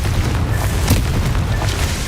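A Confringo fire spell bursting in Hogwarts Legacy, a loud dense rumbling boom that fills the whole stretch with a slightly sharper crack near the middle and no talk over it.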